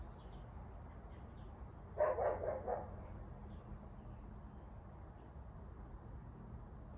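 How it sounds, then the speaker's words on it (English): A short burst of dog barking, three or four quick barks in a row, somewhat distant against a quiet background hum. "I wonder what he barking at."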